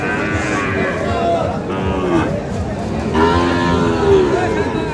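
Several calves and cattle moo loudly and repeatedly nearby, deep drawn-out lows overlapping amid a busy outdoor cattle market murmur at Ambari, Dinajpur, where Sahiwal bull calves are traded.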